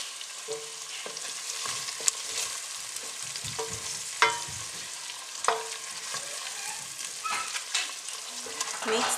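Beef and onions sizzle steadily in a pot for Kenyan brown beef pilau while a spoon stirs them, scraping and knocking against the metal at irregular intervals, close by and with no talking.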